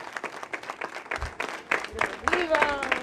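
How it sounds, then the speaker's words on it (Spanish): Congregation applauding the Virgin Mary of Guadalupe at a Catholic Mass, a dense burst of clapping that swells toward the end, with cheering and voices mixed in. "Fuerte el aplauso a la Santísima Virgen María, que siempre nos bendice"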